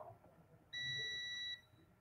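A multimeter set to continuity test mode gives a single steady beep lasting under a second, clear against a quiet room background.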